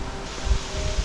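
Strong gusty wind buffets a cyclist's microphone on a sunny, very windy day in Sweden, a rushing roar with low thumping bursts and no speech.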